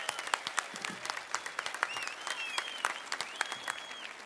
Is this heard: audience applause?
yes